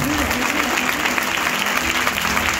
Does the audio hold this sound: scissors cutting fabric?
no